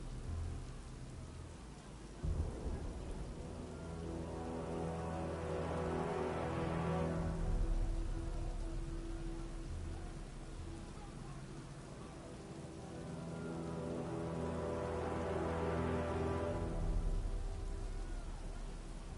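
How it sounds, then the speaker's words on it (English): Heavy rain pours across a city street in Batman: Arkham Knight, a constant hiss broken by two long rolls of thunder that build and fade some seconds apart. "What's with all the rain?"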